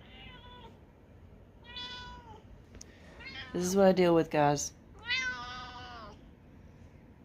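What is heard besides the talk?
cat meowing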